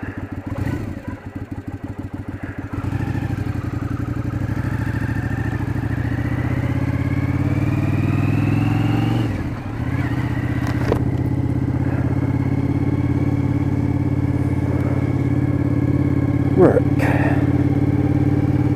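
Motorcycle on a ride to work, engine droning steadily up close with a rough idle-like chug at the start before settling into a continuous loud hum with shifting pitch.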